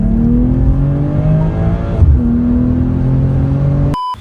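A 2023 BMW M340i LCI facelift accelerates hard in Sport Plus mode. The engine note climbs in pitch, briefly drops at a gear change midway, then climbs again, loud and close before cutting off abruptly.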